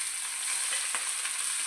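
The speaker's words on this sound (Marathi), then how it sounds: "आता इथे जिरं मोहरी तडतडला आहे" Cumin and mustard seeds crackle in hot oil for a tempering: a steady, bright sizzle with scattered sharp pops, close and even throughout the brief moment.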